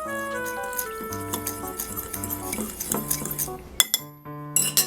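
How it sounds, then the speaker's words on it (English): Malt powder or Ovaltine being stirred in a bowl, with repeated clinks and scrapes of a utensil against the dish and some ringing tones underneath, ending in a few sharper knocks. "we're gonna mix it together like so until you get this nice dual crystalled color"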